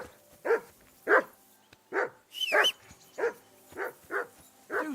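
A dog in the medieval role-playing game Kingdom Come: Deliverance 2 gives a run of eight sharp, close barks at a steady, insistent rhythm, with yips in between and one higher yelp near the middle.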